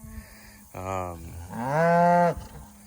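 An American Murray Grey calf on a grazing pasture lets out a short moo followed by a longer, rising bawl, heard close and clear outdoors with no talking.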